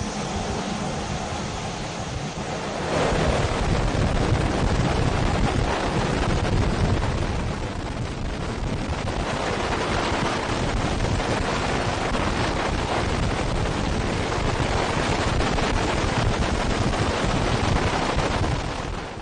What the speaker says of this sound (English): This incredible sight is created by what's known as an afterburner.